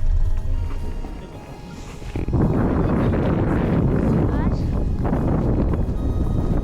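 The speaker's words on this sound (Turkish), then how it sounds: "Çok rüzgar esiyor." Strong wind rushes and roars against the microphone in sustained gusts beside Ulugöl lake in Ordu, Turkey, rising after a brief lull, with a voice faintly mixed in.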